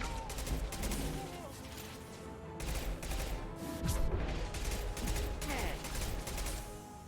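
Gunfire in the video game Mass Effect 2, continuous rapid bursts of automatic shots in several waves at a fairly low level, with voices woven through the firefight.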